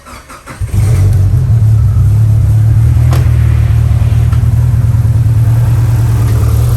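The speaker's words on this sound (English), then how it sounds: "Start the car again, see if that one, fingers crossed." A Mitsubishi Lancer Evo engine cranks briefly, catches, then settles into a loud, steady idle rumble close by.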